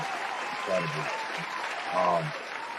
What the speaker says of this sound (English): So play the claps for this, Baines.